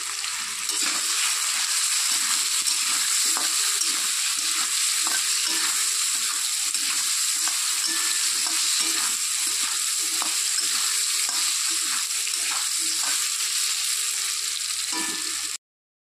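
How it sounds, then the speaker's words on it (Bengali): Potatoes frying in a hot pan with salt and turmeric give a steady, dense sizzle, broken by regular scraping stirs, with no voices over it. "আলুগুলো একটু ভেজে নেব।"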